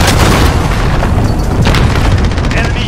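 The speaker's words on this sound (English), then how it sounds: "Throwing grenade." Grenade blast in a modern military shooter video game, a heavy sustained booming rumble with crackling debris filling the whole stretch, loud and close.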